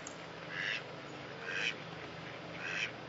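Farm ducks descended from mallards quack three times at a steady spacing, each call a short nasal burst, mid-distance and clear over quiet outdoor background.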